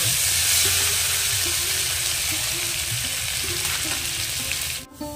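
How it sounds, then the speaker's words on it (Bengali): Green banana pieces fry in a pan with a loud, steady sizzle and crackle that runs throughout, ending with a brief clunk. "স্বাদ মতো নুন দিয়ে দেবো এটাকে ভালো করে ভেজে নেব"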